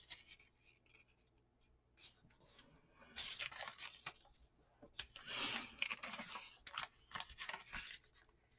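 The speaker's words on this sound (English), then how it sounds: "this one I'm going to fold like that and then just fold both sides in" Book pages are creased and folded by hand, making soft papery rustles and sliding rubs. The sounds start faint and grow busier, with bursts of crinkling and scraping.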